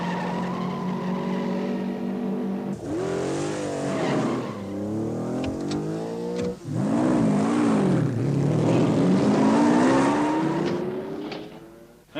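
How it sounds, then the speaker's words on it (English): A car approaches with a roaring engine and squealing tires, loud and close throughout, the pitch rising and falling as it revs and skids. "there's a car approaching"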